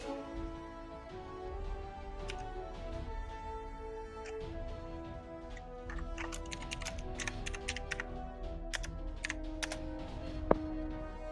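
Keys tapping on a computer keyboard in irregular bursts of clicks, close and moderately loud over steady game music and background hum, with no talking.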